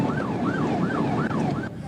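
A police car siren wails during a highway pursuit of a speeding driver, its loud rising-and-falling tone cycling steadily about four times over wind and road noise.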